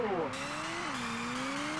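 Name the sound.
race car launching off the line in Ridge Racer video game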